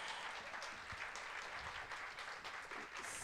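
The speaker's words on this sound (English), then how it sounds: "Can we get a round of applause for our guest chef?" An audience at an Indigenous food program applauds a guest chef. The clapping is brisk and fairly quiet, with a few sharper individual claps standing out over a steady wash of hands.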